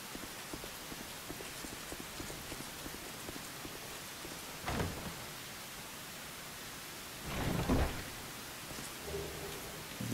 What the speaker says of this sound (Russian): Дождь, судя по всему, только усиливается.